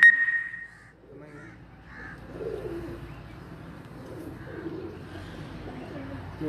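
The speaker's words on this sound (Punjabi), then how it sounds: "ਕਬੂਤਰ" Pigeons kept by a breeder give soft, low cooing murmurs against a quiet background hum, after a brief sharper bird call at the very start.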